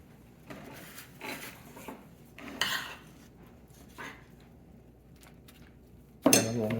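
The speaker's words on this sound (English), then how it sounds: "And then place them on your pan" Rolled green chili enchiladas are set down on a pan with soft, muffled handling sounds and faint clinks, then a sudden loud metallic clatter at the end. No voices are heard.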